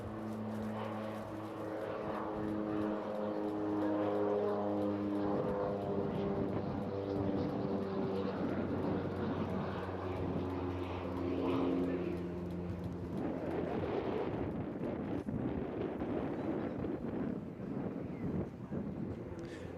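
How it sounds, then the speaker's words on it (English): A twin-turboprop aircraft, powered by two Garrett T76 engines, makes a slow, low pass with its undercarriage down at the Eastbourne International Airshow. It gives a loud, sustained droning hum with steady tones, and wind rushes across the microphone. "Slowing the aircraft down now, the undercarriage down for a dirty pass."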